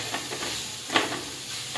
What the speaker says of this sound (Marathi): आता हे खोवलेलं खोबरं आहे ना चांगलं आपल्याला परतून घ्यायचं आहे